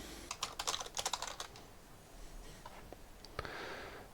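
Keys on a laptop keyboard are typed in a quick, light burst of clicks, then a few scattered taps and a soft shuffle, close and fairly quiet.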